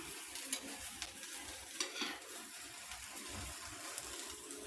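Adai dosa sizzling in oil on a pan after being flipped, a soft steady frying hiss with a few faint scrapes and clinks, quiet and close with no voices.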